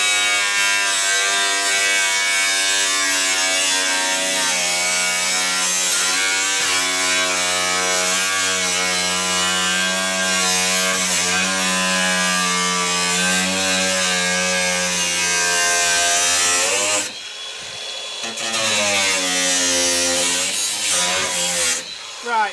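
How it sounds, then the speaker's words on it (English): Angle grinder cutting through a VW Crafter van's metal panel for rear glazing, a loud harsh whine with strong droning tones, sustained for most of the stretch, then briefly dropping and restarting. "I've cut as much as I can with the grinder."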